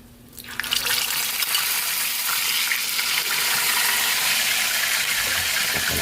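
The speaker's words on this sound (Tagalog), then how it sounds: "Prito na natin yung ating chicken." Chicken pieces frying in hot oil, with a sudden loud burst of sizzling as the batch goes in, then a steady, dense hiss and crackle that holds close and even throughout.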